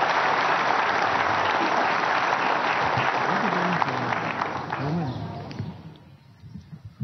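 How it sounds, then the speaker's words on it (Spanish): An audience at a church novena for the Virgin of Caacupé applauds with dense, sustained clapping. A voice speaks over the clapping before it fades to scattered claps. "Un aplauso para ella, su presencia."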